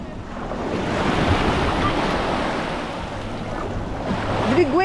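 Big ocean waves break and wash onto Es Canar beach in Ibiza, a steady loud surf roar mixed with wind buffeting the microphone.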